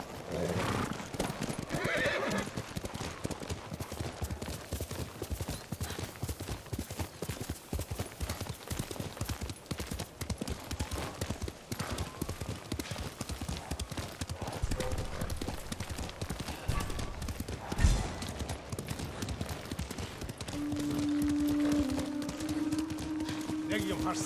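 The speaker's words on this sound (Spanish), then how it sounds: "¡Caballo!" A horse in the Ghost of Tsushima video game clip-clops in a steady rhythm of hooves that runs through the whole stretch, with whinnies, game sounds and a voice speaking over it.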